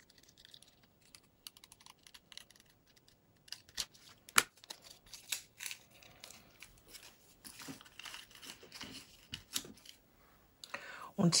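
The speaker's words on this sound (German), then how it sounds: "Hier gehen wir jetzt her und lösen jetzt ganz vorsichtig das Malerkrepp." Painter's masking tape peeled slowly off a paper card during Easter card crafting, giving a run of soft crinkling and tearing rustles with scattered sharp ticks, close and fairly quiet, with a brief louder rip near the end; someone talks alongside.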